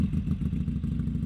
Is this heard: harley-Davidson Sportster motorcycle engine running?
yes